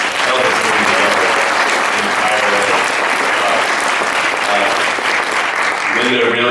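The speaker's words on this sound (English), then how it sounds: "big round of applause for Linda" Sustained audience applause fills a Sundance Film Festival Q&A for the film Cold in July, steady and dense throughout with a few voices rising near the end.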